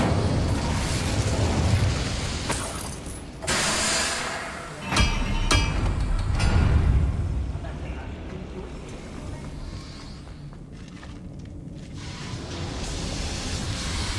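A fire spell is cast in the Hogwarts Legacy video game, giving a burst of whooshing flame with booming impacts around five seconds amid constant game ambience and a faint voice. The crackle rises and then fades.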